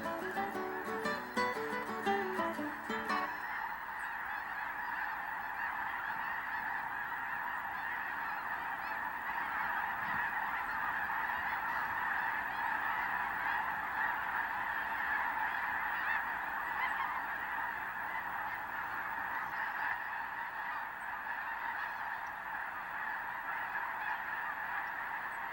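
Geese honk at a winter roost on flooded pastures, a dense, continuous chorus of many birds calling at once, steady and carrying from a distance, with no talking.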